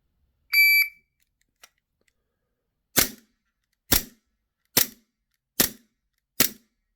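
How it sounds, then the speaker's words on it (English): A shot timer's electronic start beep, then five sharp air pistol shots fired at an even pace, each a crisp isolated crack against near silence. "This is an air pistol, and I'm only going to be using this to show the sound."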